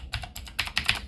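Quick typing on a computer keyboard, a short close run of light plastic key clicks in uneven rhythm, with no talking.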